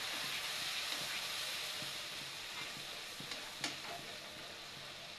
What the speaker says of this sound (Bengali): মশলাটা ভালো করে একটু ভেজে নিতে হবে।